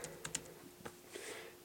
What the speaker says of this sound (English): this is probably one of the best keyboards I've ever typed on